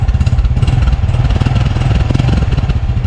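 A 2025 Honda XRM 125 motorcycle idles close by with its engine and muffler running, giving a steady, even low-pitched putter with a fast regular pulse and light mechanical clatter, with no voices over it.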